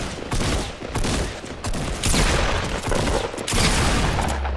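Rapid gunfire in a Fortnite Battle Royale duos match, dense overlapping shots and sharp cracks filling the whole stretch at steady loudness with a booming low end and no clear talk.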